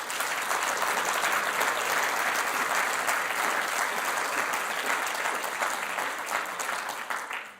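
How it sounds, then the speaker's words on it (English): An audience claps steadily for several seconds, a dense, even wash of applause in a hall that tapers off at the end. "Thank you for your claps"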